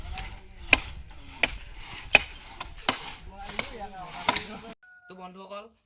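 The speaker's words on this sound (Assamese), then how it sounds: "ইয়াত খৰি কাটি থকা হৈছে।" Firewood being chopped for Magh Bihu, an axe striking wood in a slow, fairly regular series of sharp close thuds about every half to one second, then stopping as a faint voice speaks.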